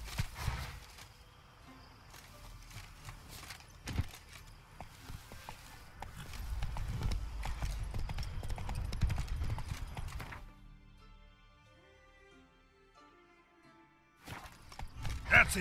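A horse's hooves clip-clop in the video game Witcher 3: Blood and Wine, rhythmic steps that grow louder midway, then fade into quiet music before resuming at the end.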